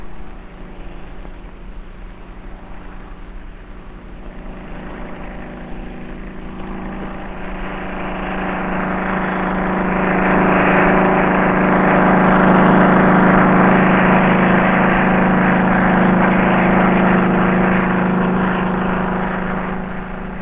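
A helicopter flies off the deck of the aircraft carrier HMS Victorious in the early 1960s, giving a steady whooshing engine and rotor roar that swells louder midway and then eases slightly, with no voices over it.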